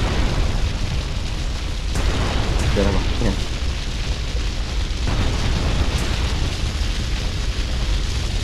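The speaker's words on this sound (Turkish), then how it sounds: "Oh çok güzel patladı." Explosions in GTA Vice City, a grenade attack on a boat, boom in broadband bursts over a continuous rumble of game sound, with someone speaking briefly in between.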